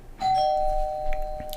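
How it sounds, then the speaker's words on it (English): A doorbell chimes once, ringing out clear and sustained with a long, fading tone. It sounds fairly close and stands alone, with no talking over it. "That's my doorbell"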